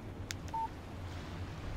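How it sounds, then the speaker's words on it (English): A phone text message notification in the video game Alan Wake Remastered gives a short, faint electronic beep over low background hum, heard alone. "Text message from Barry."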